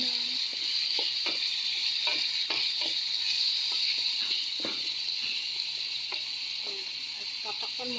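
Squash, onion and ginger frying in a pan, a steady close sizzle with repeated scraping stirs of a utensil scattered throughout, no voices.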